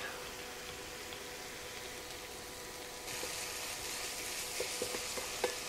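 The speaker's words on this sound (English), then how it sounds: "we're gonna stir that around for about 1 minute to release the flavor of the garlic" Garlic stirred into ground beef and onions sizzles steadily in the pan; the frying grows a little louder midway, with a few soft clicks of stirring near the end.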